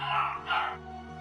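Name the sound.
dogs barking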